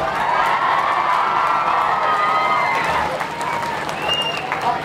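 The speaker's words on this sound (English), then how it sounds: "give him a great round of applause" A crowd applauds steadily with cheers and shouts rising over the clapping, a dense, loud wash of noise throughout.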